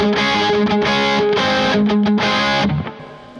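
A Harley Benton DC-Custom 612 electric guitar in cherry, double-neck, rings out loud sustained chords through light overdrive, several strummed chord changes before the last one decays.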